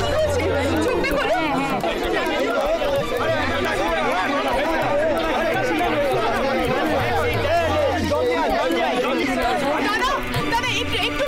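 Dense crowd of people chattering around someone in a Bengali TV drama scene, many overlapping voices forming a loud, constant babble close by, with no pauses.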